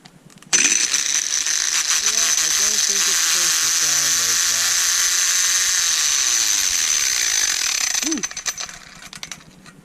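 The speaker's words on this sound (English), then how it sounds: "I think my angle grinder is on the fritz." A faulty angle grinder with stripped, broken gears in its head, used in a shop while making exhaust pie cuts, runs with a loud ratcheting mechanical whine for about eight seconds, then spins down and stops.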